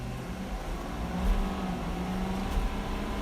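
A 2017 Ford F250 pickup, leveled on 37-inch tires, accelerates hard through a 0-60 mph run, its engine droning in a steady low rumble that swells slightly, fairly faint and without talk.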